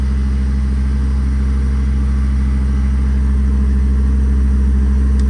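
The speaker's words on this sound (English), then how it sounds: "Now to operate the compressor, we'll come back over here. Compressor on." The EnPak air compressor on a 2016 Kenworth T270 service truck runs steadily with a loud, constant low engine drone and no change in pitch. Close by, and no voices.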